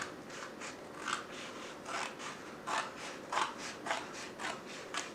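Scissors snip through a cardboard cereal box in a quick series of crisp, close cuts, roughly a dozen rhythmic crunches heard alone at low volume.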